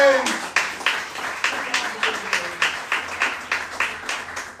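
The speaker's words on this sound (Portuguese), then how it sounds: "Aplauda ao Senhor mais uma vez." A church congregation at a Brazilian evangelical service claps in a strong, steady rhythm, sharp beats repeating about three times a second, close and continuous.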